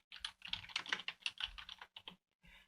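Clicky computer-keyboard keystrokes tap out a name in quick uneven bursts, close and crisp, with a short pause before a final few presses.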